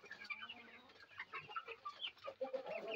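A flock of domestic chickens clucks busily while feeding, overlapping soft, irregular clucks and murmurs close by with no voices.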